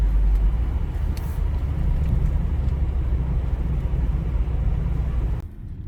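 A 2001 Volvo V70 wagon with about 362,000 miles drives at low speed on a residential road, giving a steady, loud low engine and road drone that stays even throughout and drops off abruptly at the very end.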